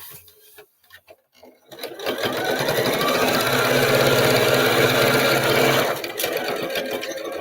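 A sewing machine stitching a drawstring bag, running in a loud, steady whirring buzz for several seconds after a few quiet clicks, then slowing near the end.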